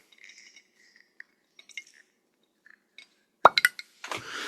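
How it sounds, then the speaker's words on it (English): A cork pops out of a bourbon bottle: faint glassy clinks and handling noises lead up to a sharp close pop with a quick squeaky rattle, then a soft hiss. "Cute cork pop."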